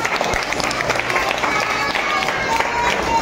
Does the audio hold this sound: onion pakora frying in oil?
no